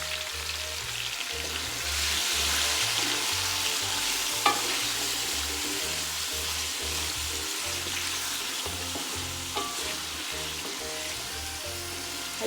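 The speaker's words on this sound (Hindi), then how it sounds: "हल्के से हम आलू घी में फ्राई कर लेंगे ताकि हमारे आलू जो हैं वो टूटे ना" Potatoes fry gently in ghee, with a steady close sizzle and hiss throughout and a couple of brief clinks as they are stirred; no one speaks.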